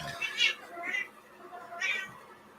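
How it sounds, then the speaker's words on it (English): A cat meows three times in quick succession, close and fairly loud with a whiny, drawn-out tone over a faint background hum. "The cat noises are back."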